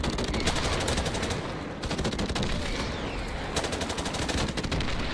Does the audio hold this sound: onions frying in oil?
no